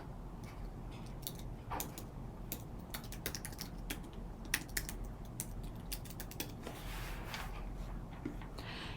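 Fingers type on a computer keyboard in quick, uneven bursts of light clicks, heard close but quiet against a soft background hum.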